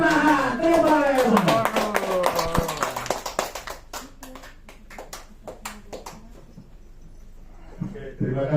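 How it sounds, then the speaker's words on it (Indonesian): Standing audience at an indoor training seminar breaks into applause, dense clapping at first under a talking voice, then thinning into scattered, distinct claps that fade toward the end. "mari kita sambut dengan berdiri dan tepuk tangan"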